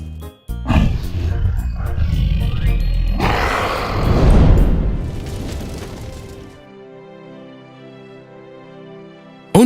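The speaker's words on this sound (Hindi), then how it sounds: "ड्रैगन जोर से दहाड़ा" Cartoon dragon roaring in a kids' story, a loud, long, growling roar with a booming rumble that swells, then gives way to a quieter tonal tail.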